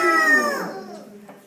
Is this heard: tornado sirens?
no